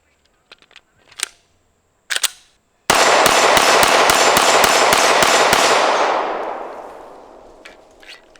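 A Tristar APOC pistol fires a fast string of about nine loud, sharp shots in close succession, with a ringing tail, after a few metallic handling clicks.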